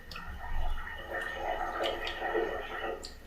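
Hot water gurgling and trickling down a freshly cleaned bathroom floor drain pipe, a steady close wet rush with bubbling gulps and small drips throughout.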